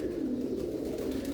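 Pigeons at a loft in Lahore coo in a low, steady, rolling drone, close and continuous throughout the short stretch.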